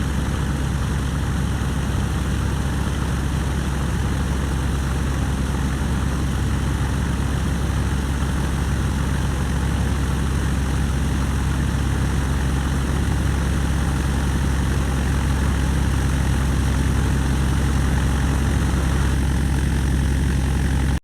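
Douglas DC-3 propeller engines idling in Microsoft Flight Simulator X, a steady, unbroken low drone with a throbbing hum that stays constant and loud throughout, no voices over it.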